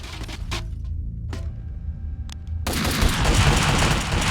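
Bursts of M4 rifle fire in the shooter Max Payne 2, a few sharp separate shots followed by a sustained loud barrage of gunfire and action noise.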